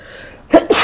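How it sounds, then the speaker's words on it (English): One close, sharp sneeze with a quick two-part burst, loud against a quiet background. "I need to sneeze, so I apologize"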